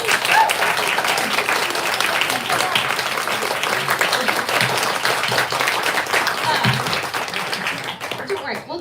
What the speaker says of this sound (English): Round of applause for Claire.